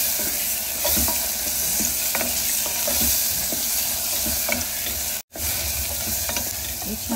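Chopped tomato and spices sauté in a pan for a soybean pulao, a steady close sizzle broken by repeated scraping stirs of a spatula, with no voices.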